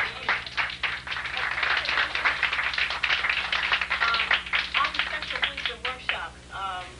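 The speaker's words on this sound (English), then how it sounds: "We want to give Dr. Jewell another round of applause." An audience applauds a speaker at a brain workshop with dense, close clapping that rises and then tapers off near the end.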